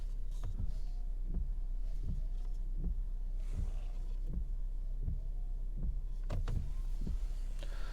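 Windshield wipers on a 2021 Honda Civic EX sweep in a steady rhythm inside the quiet cabin, each pass a soft thump over a low idle hum.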